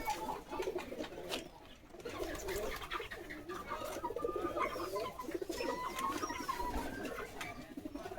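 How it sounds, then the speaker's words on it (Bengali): Many pigeons of various breeds, including ghee-colored ones, coo together at a pigeon farm in Bangladesh holding around 150 to 200 birds, a dense, continuous chorus of overlapping coos that runs steadily from start to finish. "এখানে বিভিন্ন প্রকার কবুতর আছে।"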